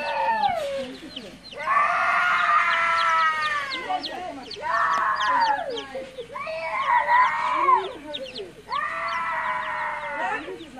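Chickens clucking in a backyard, four drawn-out, wavering calls in a row with short gaps between them, close and fairly loud, with a voice in the background.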